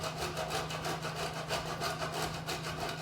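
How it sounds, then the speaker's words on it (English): Parmigiano cheese grated by hand over a bowl of ramen with peas, a steady, close rasping scrape in quick repeated strokes, with a low constant hum beneath. "I'm going to grate a little bit of Parmigiano"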